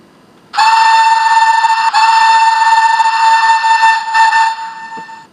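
A loud steam whistle from a Hornby King Class model locomotive blows in one long sustained blast, briefly broken and resumed, then fades out near the end.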